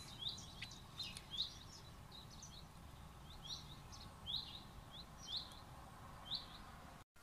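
Small birds chirp outdoors on a sunny day, giving faint, high, repeated tweets at irregular intervals over a soft background hush, with no voices.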